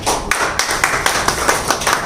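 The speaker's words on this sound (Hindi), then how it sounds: "इसलिए तालियों से इनका इस्तकबाल होता है।" An audience at a mushaira poetry gathering claps to welcome a poet, a short burst of fairly near, rhythmic hand claps with distinct regular beats.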